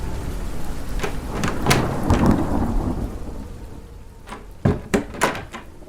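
Thunder rumbles and cracks through steady heavy rain in a dramatized storm over Brooklyn, a rolling roar early on followed by several sharp, close crashes near the end, with no voices.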